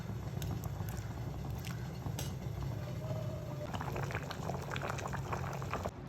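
A pot of Kerala-style sambar boiling steadily, with a continuous close bubbling and popping that holds at an even level throughout and no voices.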